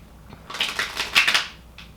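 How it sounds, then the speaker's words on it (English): A quick rustling, flicking shuffle of a deck of tarot cards, two close bursts of crisp papery clatter. "I'm being called to just do 2 quick shuffles here."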